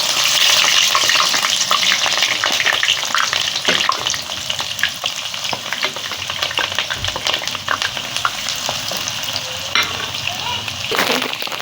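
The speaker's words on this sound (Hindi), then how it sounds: "अब हम इस पर प्याज डालेंगे ब्राउन होने के लिए।" Chopped onions frying in hot oil in a kadhai, a steady close sizzle and crackle throughout with occasional stirring scrapes.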